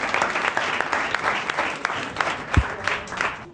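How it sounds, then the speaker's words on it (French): An audience at a school quarter-final competition claps in dense, steady applause, moderately close, with a few sharper individual claps standing out. "Applaudissez"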